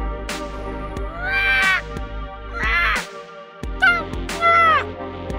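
Giant bird in the video game Days of Planet Earth squawking and cawing in harsh, rising bursts, about four loud calls over a steady game music bed.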